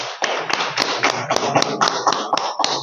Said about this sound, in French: Aidez-moi à l'applaudir.